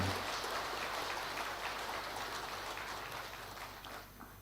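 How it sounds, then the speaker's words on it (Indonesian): A large audience of regional legislative council leaders at a retreat applauds the president of Indonesia, producing a soft, dense, rain-like wash of clapping that carries from a distance and slowly fades. "Tepuk tangan yang meriah untuk beliau."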